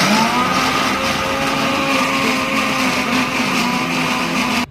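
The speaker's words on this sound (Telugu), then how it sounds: "మిక్సీ జార్లోకి తీసుకొని దీన్ని ఫైన్ పేస్ట్ లాగా చేసుకోవాలండి" A mixer grinder blends karam chutney into a fine paste, its motor giving a loud, steady whirring drone that runs unbroken for the whole stretch with no talking.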